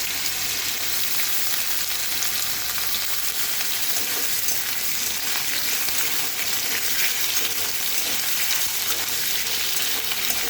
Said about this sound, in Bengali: সবজিটা হালকা ভাজা হবে